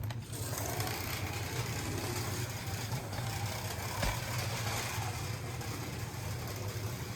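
A Viper slot car runs on its track with a noisy, chattery motor, giving a steady, buzzing whir that continues without a break at close range.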